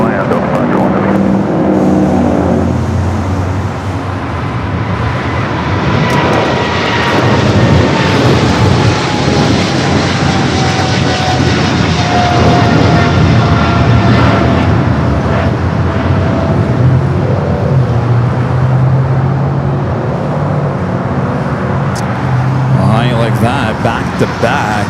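A heavy jet landing on runway 25 left at LAX makes a loud, sustained roar that swells and slowly falls in pitch as it passes close by, with a radio voice talking over it.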